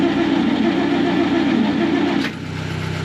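Engine of a Ford Cortez motorhome cranking and trying to start with a hand held over the carburettor, a loud steady churning drone that cuts off abruptly and gives way to a lower rumble.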